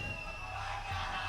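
Spectators at a Rainbow Six Siege esports match between W7M and FaZe Clan at the Berlin Major 2022 cheer in a steady, broad roar, a whoop briefly rising near the end of the short stretch.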